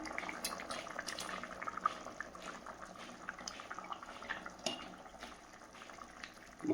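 Fish frying in oil in a pan, a soft, steady crackling sizzle with scattered pops, fairly faint and close, without talk.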